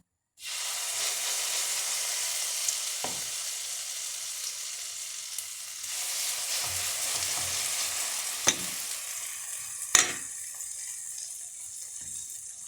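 Potato pancakes (deruny) frying in oil in a pan, a loud continuous crackling sizzle close up with a couple of sharp clicks and light spatula touches, no voices.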